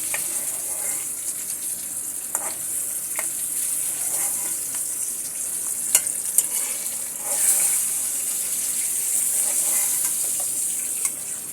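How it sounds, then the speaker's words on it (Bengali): Hilsa fish frying in hot oil as pieces are lifted out, a loud steady sizzle throughout with a few clicks and clinks from the utensil. "আমার ইলিশ মাছগুলো ভেজে নেওয়া হয়ে গেছে। এবার আমি তুলে নিচ্ছি।"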